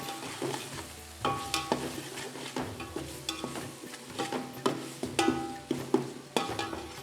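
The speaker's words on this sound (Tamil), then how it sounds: "இஞ்சி பூண்டு பேஸ்ட்டு போட்ட பிறகு நல்லா கலக்கிக்கலாம்" Ginger garlic paste stirred and frying in a pan for chicken curry, a steady sizzle under repeated scraping strokes of a spoon, close and fairly loud with no talking.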